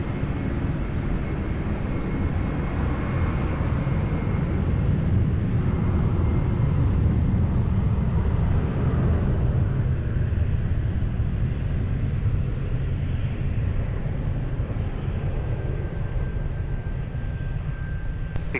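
Airliner taking off from runway 20 at Lisbon Airport, a loud, steady broadband jet roar that holds strong throughout with a deep low rumble, no voices over it.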